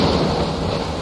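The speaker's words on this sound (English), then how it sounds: "Wow, that storm just came out of nowhere." Sudden thunderstorm in the video game Empyrion Galactic Survival: a dense, loud wash of rain and rumbling thunder fills the space evenly without pause, close and enveloping, with no voices.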